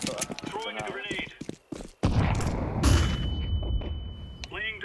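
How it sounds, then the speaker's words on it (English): A grenade in a shooter game goes off with a sudden heavy blast that rolls into a long rumbling, hissing tail, following talk and a brief pause, with a voice returning at the end. "Throwing a grenade."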